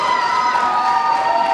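A wrestling crowd at an NWA On Fire event roars in a steady, sustained wash of cheering and shouting, loud and continuous without breaks.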